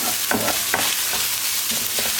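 Garlic, red pepper powder, black pepper and chili flakes being stirred into a sauce in a pot, with steady close sizzling of frying and a few scraping spoon strokes, no talk.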